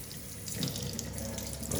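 Cold tap water rinsing a Pur water filter under a faucet, a steady close hissing splash that runs without a break and has no voices.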